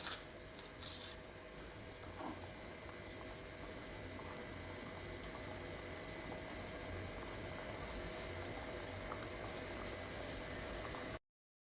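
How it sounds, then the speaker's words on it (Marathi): Aloo matar, a potato and green pea curry, simmers in a pan with a faint, steady bubbling hiss that carries on unbroken until an abrupt cutoff. "आता छान अशी आपण ही परत एकदा शिजवून घेणार आहोत सर्व भाजी"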